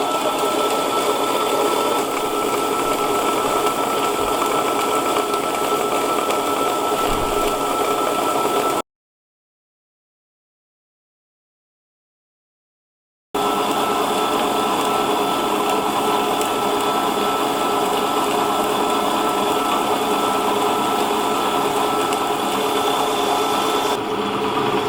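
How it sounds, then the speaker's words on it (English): A chocolate refiner grinds macadamia white chocolate, giving a loud, steady mechanical whir and grinding drone that runs without let-up, broken once by a few seconds of complete silence partway through. "I'll add that slowly into my refiner, and then we basically let it run for the next, I think, 10 to 12 hours"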